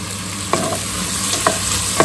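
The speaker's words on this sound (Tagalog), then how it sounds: "nagigisa na tayo ng bawang, sibuyas, kamatis" Garlic, onion and tomato sautéing in a pan, a steady close sizzle with a few sharp clinks of a utensil stirring against the metal.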